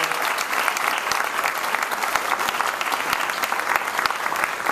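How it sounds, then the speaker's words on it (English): Sustained applause from an audience at the opening of a new regional public library in New Orleans, a dense, steady wash of many hands clapping that holds loud and even throughout. "how about a round of applause for New Orleans Public Library staff?"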